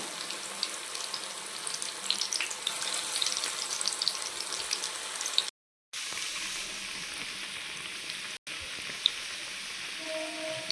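Spinach pakoda fritters, a second batch of palak pakoda, crackle and sizzle steadily in hot oil, a continuous close frying hiss that cuts out briefly twice.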